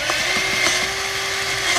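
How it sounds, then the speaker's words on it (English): A power drill fitted with a hole saw bores through plywood, giving a steady whining buzz with a constant tone and faint rhythmic chatter, close and loud with no talk. "I drill through it."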